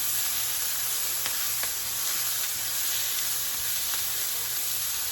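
A Mexican-style stuffed green pepper filling sizzles steadily in a pan, with a constant hiss and a few light clicks and scrapes from stirring. No one speaks.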